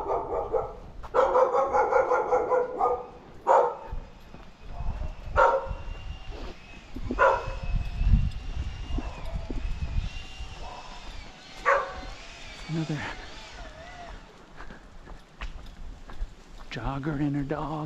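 A chocolate Labrador barks several times outdoors during a walk, the sharp barks spread out between passing sounds and some voices.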